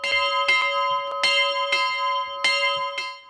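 A bell in the ornate wooden belfry standing in a college courtyard rings out loudly, about eight clear strokes in an uneven rhythm, each leaving a long ringing hum between strikes.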